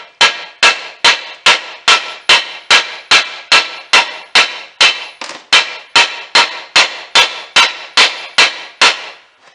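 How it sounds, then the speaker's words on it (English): A mallet pounds and flattens two sides of a part for a 36-inch wind spinner, producing about twenty loud, evenly spaced, sharp blows in a steady rhythm, with nothing else audible. "I got this mallet and I smashed the two sides, and it gives me more area."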